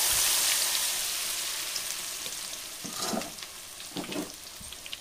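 Meal maker pakoda pieces frying in hot oil in a village-style kitchen, a steady close bubbling hiss with louder crackling bursts as pieces settle, no talking.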